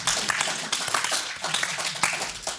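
Clapping from an audience at a live retro gaming expo panel, a string of distinct, fairly close claps at an uneven pace that builds into scattered applause.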